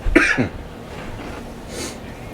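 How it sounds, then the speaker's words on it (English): A single short, husky cough up close, then a faint breath and quiet room tone. "sorry, I have a bit of a cough."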